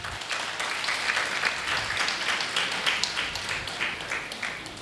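Steady, moderately loud applause from an audience clapping for children at a closing ceremony, with rapid overlapping claps that hold evenly from start to end.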